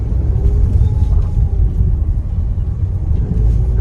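Mitsubishi car engine pulling forward under light throttle on a rough, potholed road, a steady low rumble with road noise filling the whole stretch, close and continuous.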